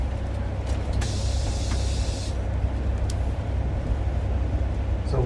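A vehicle rolls through the Anton Anderson Tunnel with its left wheels on a rail and its right wheels on concrete, giving a steady loud low rumble and road roar, and a brief hiss partway through.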